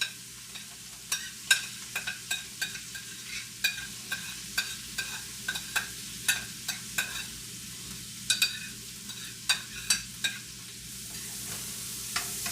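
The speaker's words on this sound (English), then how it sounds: "right into this pan, gonna dump in all of the vegetables" Vegetables sizzle steadily in a hot pan that just held meatballs, with frequent sharp scraping stirs and clatters breaking through the continuous frying hiss, close and fairly loud.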